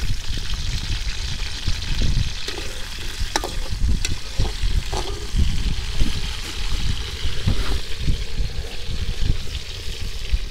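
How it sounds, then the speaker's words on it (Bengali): Potatoes frying in oil at an outdoor picnic, a loud, steady sizzle and crackle close up, with stirring scrapes and occasional clinks, and no one talking. "আমরা প্রথমে আলুটা ভেজে নিব আর কি।"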